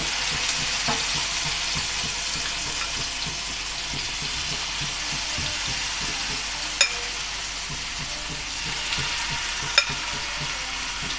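Paneer pieces shallow frying in oil in a pan over a medium flame, giving a steady, even sizzle throughout with faint crackle and two brief sharp clicks, no voices.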